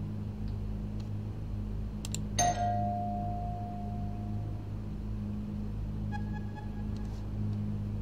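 A single two-tone doorbell chime rings once in the TELEFORUM horror game, clear and sustained over a low droning hum, followed later by a faint, softer ding.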